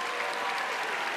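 A large audience at the opening of the New Wave 2012 song contest claps in a thick, sustained roar of applause, steady and loud from start to finish.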